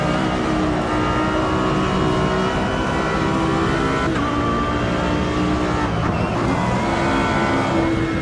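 Race car engine in a racing sim, Project Motor Racing, droning steadily and loud throughout with sustained harmonic engine tones, slight pitch shifts as the car works through a section of track, no voices.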